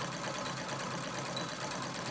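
A sewing machine quilting fabric runs at a steady, even speed, its continuous mechanical whir and rapid needle chatter holding constant throughout, close and alone.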